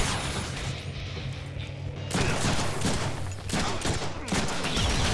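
Volleys of gunfire in a Deadpool video game, dense crackling shots and impacts that grow heavier partway through, loud and continuous amid game noise.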